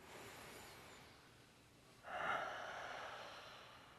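A single deep breath, faint and close, with a soft drawn inhale followed by a brief stronger airy rush, in a quiet setting with no speech.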